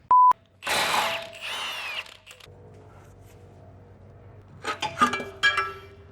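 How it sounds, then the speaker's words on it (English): A hand ratchet works on a shock absorber bolt on a Toyota Tacoma rear suspension, giving bursts of quick clicking and metallic clinks with a tonal beep at the start and quieter rattles between. "I have to take the shock off now just to get this bolt out"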